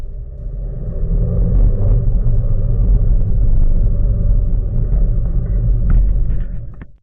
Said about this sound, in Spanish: podemos pisar a fondo el acelerador hasta la posición kickdown